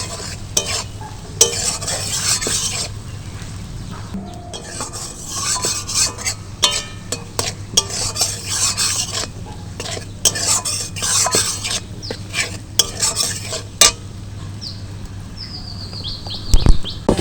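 Chopped ginger and green chili fry in oil in a pan while a utensil stirs and scrapes, a loud close sizzle broken by repeated clicks and knocks of metal on the pan, with no talking.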